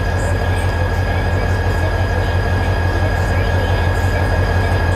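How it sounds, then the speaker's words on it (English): Diesel train locomotive rumbling steadily up close, a deep continuous drone with constant loudness, heard while the train passes at a crossing. "Hearing the rumble of the locomotive at the very beginning"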